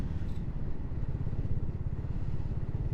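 A BSA Goldstar 650 motorcycle rides out along a road near Leominster in the aftermath of a storm, its engine a steady, loud, close low thrum with rapid even pulsing throughout, no talking.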